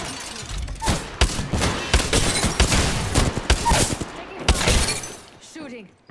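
Rapid gunfire in a shooter video game: repeated loud volleys of sharp shots with shattering impacts, clustered into bursts that fade out at the end.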